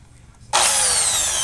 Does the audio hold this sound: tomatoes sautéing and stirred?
no